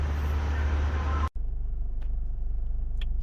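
Road traffic in the trucking section of a Pilot travel center: a loud, low engine rumble that cuts off abruptly, then quieter idling and distant vehicle noise with a few faint clinks.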